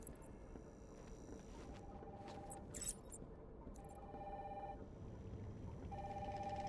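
Quiet telephone ringing in the video game Batman Arkham Asylum, three short electronic ring bursts spaced a second or so apart over a low background hum.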